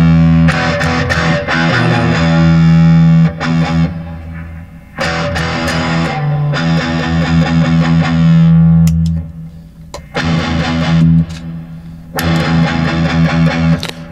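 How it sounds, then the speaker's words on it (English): An electric guitar played through a Pro Co RAT distortion pedal gives thick, sustained distorted chords and riffs in several loud phrases separated by brief pauses, close and with no talk. "Let's get the distortion in."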